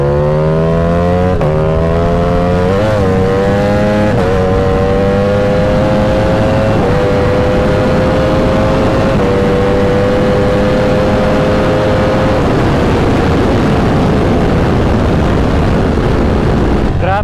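A Ducati Panigale V4S motorcycle's V4 engine pulling hard through the gears on a road, a loud, close, rising howl repeatedly climbing in pitch, briefly dropping at each upshift, then settling into a steady high-revving drone.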